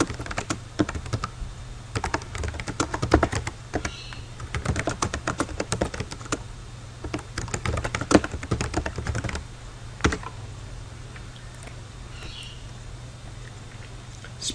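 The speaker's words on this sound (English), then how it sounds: "you simply just open up the Many Signatures form and you type into a new row." Rapid keystrokes on a computer keyboard while entering text into a form, a steady close clatter with short pauses and a quieter stretch toward the end, no voices.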